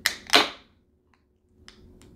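A can of Crux Fermentation Project IPA from Bend, Oregon, cracks open with two sharp, close snaps and a brief hiss, followed by quiet and a few soft clicks.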